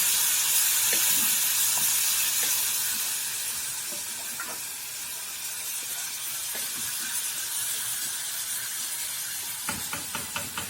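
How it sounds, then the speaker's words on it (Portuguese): Lard melts and sizzles in an old, hot household cooking pot, a steady close hiss broken by small crackles and pops, with a few faint clinks near the end. "Olha a gordurinha aqui, ó. A banha derretendo."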